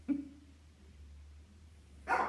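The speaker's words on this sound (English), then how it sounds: "we're about to have some dogs barking" A single faint dog bark at the start, then quiet room hum, ending with a brief louder yip or bark.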